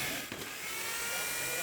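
A multi-purpose power tool for drilling and cutting tile, stainless and wood runs with a steady high-pitched whir at a noisy builders' trade show, drowned in a dense wash of crowd noise.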